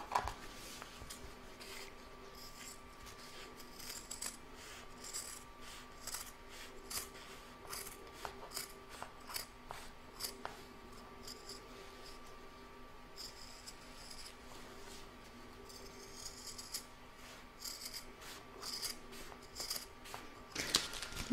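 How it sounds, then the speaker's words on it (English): Scissors snip and trim around the edge of an embroidered fabric mug rug, a steady run of small close crisp cuts and fabric rustles at low volume. "I'm going to trim up all around the edge, and I'm going to trim to within about a quarter of an inch here."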